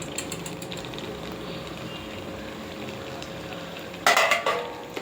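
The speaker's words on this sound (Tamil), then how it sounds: "இப்போ இந்த மஞ்சள் தூள் மிளகாத்தூள் நான் போட்டுறேன்" Turmeric and chili powder sizzle and crackle as they hit hot oil for chutney, a steady low frying hiss that bursts into a louder, brighter sputter near the end.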